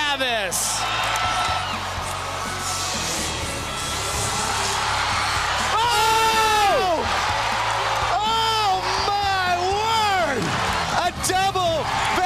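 Crowd at the X Games cheering for Travis Pastrana during a freestyle motocross double backflip, a broad steady roar with whoops and shouts rising in bursts, while people talk over the noise.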